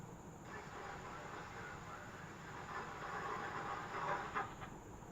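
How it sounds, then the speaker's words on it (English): A long CSX freight train led by six locomotives rumbles past at night at a rail park, a steady broad roar with faint wheel clatter and hiss, moderately distant. "back to our last CSX 6 locomotives on that huge, massive, unlimited number of cars"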